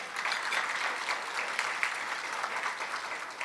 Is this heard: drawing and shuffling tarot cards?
no